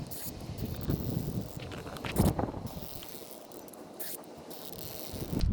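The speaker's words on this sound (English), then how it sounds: "Now we can start pumping fresh fluid." Fresh brake fluid is pumped with a Phoenix brake flusher at the open bleeder screw on a 2005 Toyota Camry front brake, giving uneven mechanical clicks, squeaks and rubbing strokes at close range with no talking.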